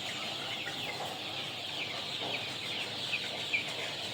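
Crowded chicks cheep and cluck continuously during transport on a hot day, a dense, fairly faint chorus of high chirps with a few sharper peeps standing out.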